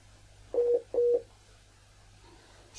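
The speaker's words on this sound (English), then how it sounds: "Somebody might be ringing you now." A telephone gives two short, evenly spaced tones in a quiet room, faint and clear against a low steady hum.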